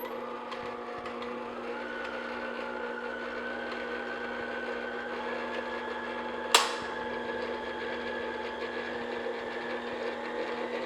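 Electric mixer whirring steadily on low speed through butter cake batter, a continuous motor hum with one sharp click partway through.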